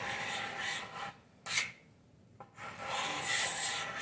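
A hand scraper rasping along the edge of a wooden skateboard deck to round it, with close, dry scraping strokes broken by a short pause and a couple of brief sharper scrapes.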